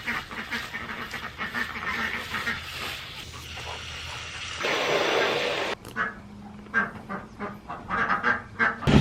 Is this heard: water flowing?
no